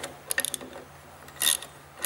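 A wrench ratchets to loosen a bolt on a scraper, giving a few quick close metallic clicks followed by a brief louder grinding burst, then another short burst at the end.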